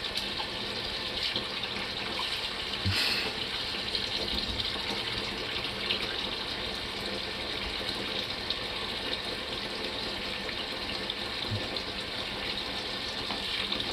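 A household tap runs steadily to bring hot water through for a washing machine, a continuous loud gushing hiss that holds at an even level from start to finish.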